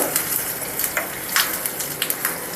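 Mustard seeds splutter in hot oil with asafoetida and green chilli added. The sound is a dense, continuous sizzle peppered with small sharp pops, close and moderately loud, with no voices.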